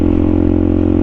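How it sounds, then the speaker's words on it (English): A 2016 Suzuki DRZ400 supermoto motorcycle engine runs close by in a loud, steady single-cylinder thrum with a fast, even pulse throughout the short stretch. "a 2016 brand spanking new Suzuki DRZ400 supermoto"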